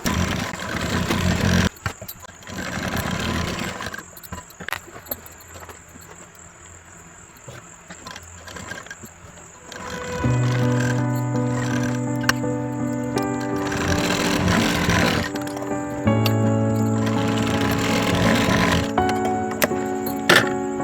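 A sewing machine stitching blouse fabric, bursts of rapid, steady mechanical whirring that start and stop, close and fairly loud, separated by quieter pauses.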